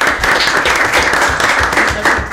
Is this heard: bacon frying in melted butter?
no